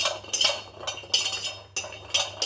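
Garlic dry roasting in a pan with no oil, stirred so it rattles and scrapes against the metal in short, bright bursts repeating about every half second, close and fairly loud.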